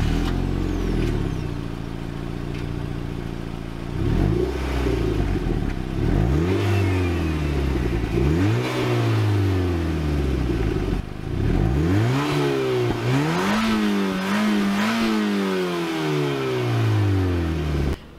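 An NC Mazda Miata's 2-liter four-cylinder revs up repeatedly through the gears, each loud, close pull rising in pitch and then dropping at the shift, with some mechanical clatter and no talking.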